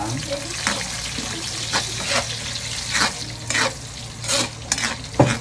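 Onion and ginger sauté in a home kitchen pan for sweet and sour tilapia, a soft steady sizzle broken by repeated scraping stirs of a utensil, close and moderately quiet.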